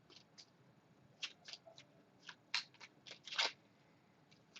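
Small oracle cards being shuffled by hand, quiet crisp flicks and riffles in irregular bursts, several louder snaps near the middle, close but soft with no talking.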